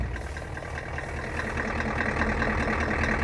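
A 6.9 diesel truck engine idles steadily at close range, a dense low rumble with a faint repeating tick that fits a developing knock, with no voices over it.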